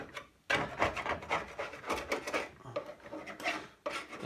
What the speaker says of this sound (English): I'm using a different scraper too now.